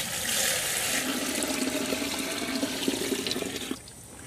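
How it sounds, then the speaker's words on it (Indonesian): Rice-washing water pours steadily into a container in a continuous, close, fairly loud stream, with a splashy wash of sound that cuts off near the end. "Kemudian kita tuangkan air cucian berasnya."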